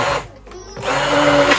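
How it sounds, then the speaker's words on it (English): A hand blender whirs through minced beef keema, turning it into a smooth paste. The motor drone is loud and close, dipping briefly mid-clip before returning steadily. "I'm going to start to blend with the hand blender, make it very smooth"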